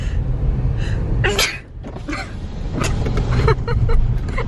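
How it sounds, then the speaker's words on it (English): A sudden sharp sneeze bursts out over the steady rumble of a car interior while driving near Komatipoort, South Africa, followed by faint shuffling and road noise. "Oh, I gotta sneeze."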